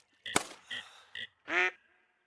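Ducks quack in a hunting video game set in West Virginia Appalachia, with a few short, loud, close calls in quick succession followed by a single longer, harsher quack.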